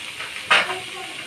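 Carrots dropped into generous hot oil for momo filling give a brief burst of sizzling, then a steady, moderate frying hiss close by.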